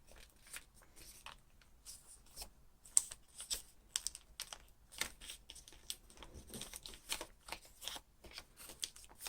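Paper is creased and pressed while folding an origami Pegasus, heard as soft, close, irregular taps, rustles and crisp flicks in a quiet room.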